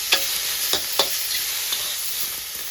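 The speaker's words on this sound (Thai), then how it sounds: "ใส่น้ำมันนิดหน่อยนะคะ ผัดให้หอมใส่ซีอิ๊วมันมีรสชาติ" Sliced shiitake mushrooms stir-fry in a little oil with a soft, continuous sizzle, punctuated by a few sharp utensil clicks early on and no talking.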